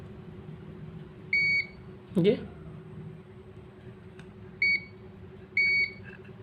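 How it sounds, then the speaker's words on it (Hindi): Multimeter continuity buzzer beeping during a test of a clothes iron's thermostat: four short, steady tones spaced a couple of seconds apart, moderately loud, with a brief spoken word between them. "ये देखो बजर का साइन आ रहा है, थर्मोस्टेट हमारा ओके।"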